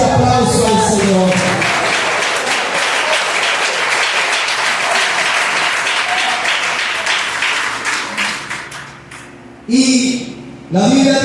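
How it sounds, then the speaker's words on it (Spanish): A church congregation in Costa Rica breaks into loud, sustained applause, a dense wash of clapping that gradually thins and fades, followed by a preacher speaking. "Háganle un fuerte aplauso al Señor."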